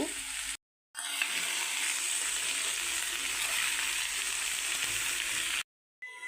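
Steady loud sizzling of beans, potato and coconut frying in a pan on low flame, broken by two brief silences, with a soft scraping of stirring running through it.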